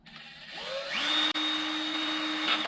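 Power drill boring a hole for an internal speaker install, the motor spinning up with a rising whine, holding a steady high pitch for about a second and a half, then winding down.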